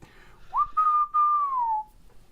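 A person whistles one long sustained note that bends up at the start and slowly sinks at the end, clear and close with no talking.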